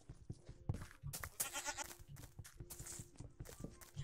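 Minecraft goat making bleats along with soft repetitive chewing and clicky game sounds, fairly quiet and close, with brief bits of player noise mixed in.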